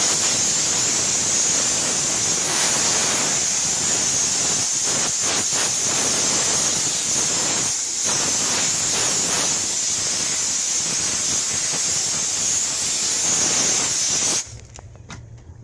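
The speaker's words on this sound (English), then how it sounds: "We'll take these couple of seats right here and we'll steam it out." A steam cleaner blasting bus seats gives off a loud, continuous, close hiss with slight pulsing in the middle, stopping abruptly just before the end.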